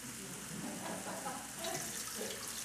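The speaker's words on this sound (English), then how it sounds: "put some water in there. It better be water. Now this is about 10 cups of water." Water, about ten cups, pours into a cooking pot for turtle stew as a soft, continuous splashing trickle, quiet and steady throughout.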